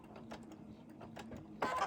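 Home sewing machine stitching a quilt practice block: quiet, irregular mechanical chatter with a few short bursts and a louder stitching run near the end, no talking.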